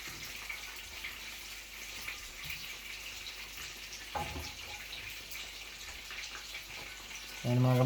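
Chicken pieces frying in hot oil in a home kitchen, a steady faint sizzle and crackle that runs continuously, with a brief clatter midway and a louder thump near the end.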